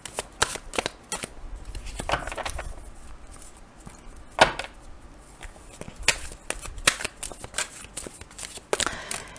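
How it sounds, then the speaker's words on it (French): A deck of tarot cards being shuffled by hand, with repeated riffling and slapping bursts in an irregular rhythm over nine seconds, close and clear with no voices. "Je prends mon petit paquet et je vais brasser les cartes."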